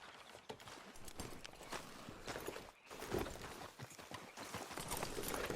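Horse hooves clip-clop steadily at a walking pace in Red Dead Redemption 2, close and moderately loud over an outdoor backdrop, with a brief lull midway before the rhythm resumes.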